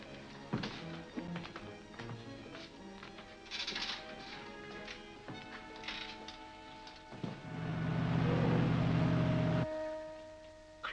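A motorboat engine in a 1942 Sherlock Holmes film, first mechanical clanks and taps, then a steady droning run for a couple of seconds that cuts off abruptly.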